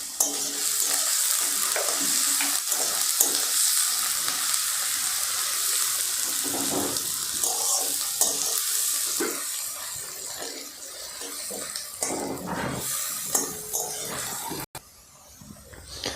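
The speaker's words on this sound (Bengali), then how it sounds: "আমার পেঁয়াজ ভাজা হয়ে গেছে" Sliced onions sizzle steadily in a hot pan with a pinch of salt while a spoon scrapes and stirs them, a close, continuous frying hiss with occasional scraping strokes, no voices.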